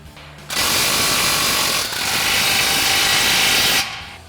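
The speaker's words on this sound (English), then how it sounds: "And we'll go ahead and tighten this clamp down." A power ratchet tightening an exhaust clamp on a 2022-2024 Toyota Tundra with a Magnaflow Overland Series single exhaust system, a loud close whirring burst of about three seconds with a slight dip midway, then stopping.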